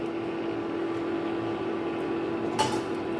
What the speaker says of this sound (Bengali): এখন আমি একটা ঢাকা চাপা দিয়ে দিচ্ছি